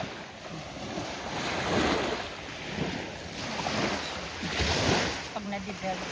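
Surf washing onto fine sand at Hermit Beach in Panglao, a steady rolling wash with swells of louder breaking, mixed with wind buffeting the microphone and faint voices in the background.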